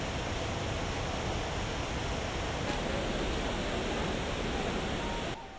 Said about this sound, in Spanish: la furia y el rugir de una cascada impresionante